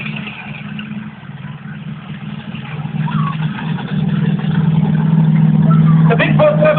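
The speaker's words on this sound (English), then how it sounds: "The Bigfoot 17 monster truck completely sideways" The Bigfoot 17 monster truck's engine roars steadily at a stadium while it slides sideways, the revving building louder toward the end over an announcer's amplified voice.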